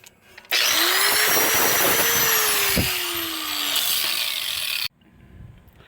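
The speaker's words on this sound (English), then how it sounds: "I'm going to clean these mating surfaces." A power tool whirs loudly for about four seconds as it cleans the rusty mating surfaces of a rear sway bar on a Jeep XJ, starting and stopping abruptly in a quiet garage.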